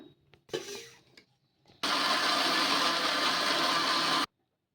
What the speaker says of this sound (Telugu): కొన్ని నీళ్ళు వేసుకొని మెత్తగా మిక్సీ అయితే పట్టేసుకుందాం